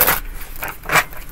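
Tarot cards being shuffled by hand before a reading: two or three short, crisp riffling bursts close by, separated by brief pauses, with no talk.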